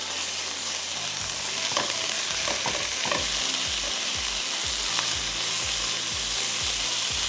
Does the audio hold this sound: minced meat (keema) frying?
yes